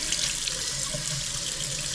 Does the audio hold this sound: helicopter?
no